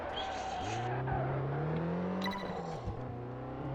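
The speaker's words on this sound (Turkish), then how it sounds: "Ya baba egzoz sesini duyuyor musunuz?" Engine and exhaust note of a race car in a driving video game, a loud steady drone that rises in pitch as it accelerates, with a brief tire-squeal-like burst partway through and no talk.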